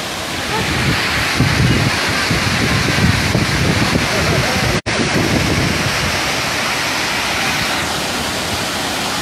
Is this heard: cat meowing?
no